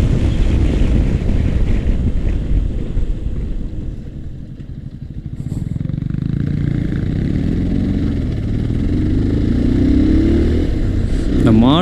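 Strong wind roars across the microphone during a Pulsar 220 motorcycle ride on a road toward Ladakh. The gusts are loud and continuous with a brief dip midway, and the engine hums faintly underneath.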